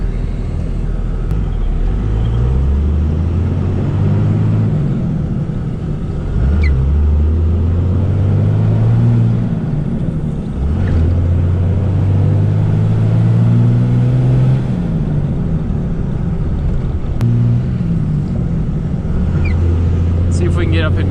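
A 2001 Dodge Ram 2500 with a Cummins diesel and six-speed manual drives along, its engine droning loud and close and rising in repeated pulls between gear changes, with a worn transmission that resists going into third.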